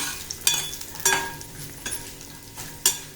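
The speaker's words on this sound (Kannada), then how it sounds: "ಒಂಚೂರು ಕರಿಬೇವನು ಹುರಿತೀನಿ." Curry leaves, coriander and a little chickpea dal dry-roasting in a pan, a light crackling sizzle punctuated by four sharp scraping stirs of a spatula, close up and without talk.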